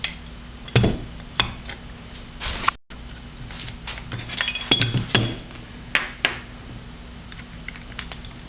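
Metal clinks and taps from bolting a short shifter assembly onto a Toyota 4Runner W56 transmission, a handful of sharp close knocks and rattles scattered across a quiet workshop background.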